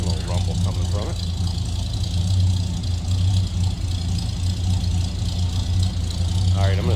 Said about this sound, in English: Listen to that 429, little rumble coming from it